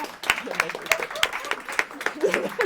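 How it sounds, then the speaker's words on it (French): Brief applause from a conference audience at a social selling forum, a handful of distinct claps in an uneven rhythm, fairly close, mixed with light voices in the room. "on les applaudit"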